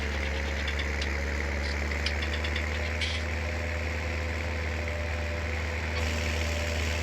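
A tiny tractor's small engine idles in Farming Simulator 19, giving a steady, low, continuous rumble with no one speaking over it.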